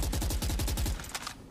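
Rapid automatic gunfire from the video game Valorant, a fast, even burst of about a dozen close, loud shots followed by a couple of scattered single shots, with no talk.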